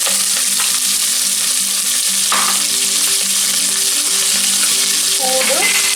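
Mustard seeds, cumin, cinnamon, cloves and onion fry in hot oil for a chicken gravy, giving a loud, continuous sizzle with scattered popping and stirring throughout.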